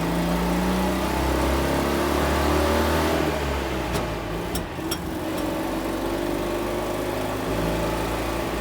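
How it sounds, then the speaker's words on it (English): A Citroen 2CV 4x4 Sahara drives off-road past vineyards, its small engine buzzing steadily and close throughout with a loud, slightly rising drone and a few faint rattles and knocks. "A go anywhere hardcore 2CV driving past vineyards"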